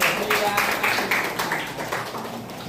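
Students in a civics classroom clap together briefly, a burst of many hands patting at once with scattered taps, fairly close and mixed with faint background voices.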